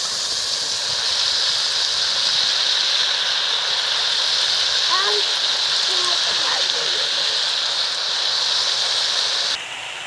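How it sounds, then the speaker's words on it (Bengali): Spinach greens hitting a hot pan, giving a loud, continuous hissing sizzle that holds steady for about ten seconds before dropping slightly at the end, with a few faint clinks of utensils. "এবার আমি শাকগুলো দিয়ে দিচ্ছি।"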